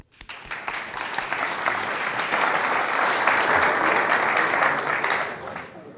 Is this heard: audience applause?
yes